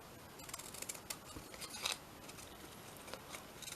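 Dull scissors snip through paper in a handful of quick, quiet cuts, each a short crisp crunch spaced irregularly over a faint background.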